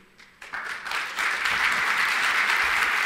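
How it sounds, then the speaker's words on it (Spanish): Audience applause at a forum, rising quickly from a few scattered claps into steady, dense clapping that holds strong and close through the end. "empezaron a aplaudir"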